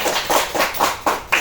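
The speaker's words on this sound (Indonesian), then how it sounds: "Tepuk tangan untuk temannya." A classroom of students claps for a classmate during a teaching lesson, in short, rhythmic bursts of fairly close, moderately loud hand claps, about five swells in quick succession.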